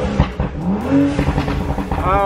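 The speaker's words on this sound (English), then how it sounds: "let's go ahead and hear how this car sounds. All right, guys, here's from the inside cabin." A stage 2 tuned BMW 435i engine heard from inside the cabin revs up and down, its rumbling pitch rising and falling, loud and close.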